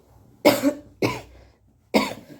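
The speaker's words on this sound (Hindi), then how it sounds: "ये खांसी पीछा नहीं छोड़ रही" A woman with a lingering cough gives three separate harsh coughs, close and loud, with short pauses of silence between them.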